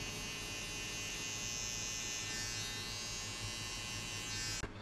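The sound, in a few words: electric hair trimmer shaving a fade guideline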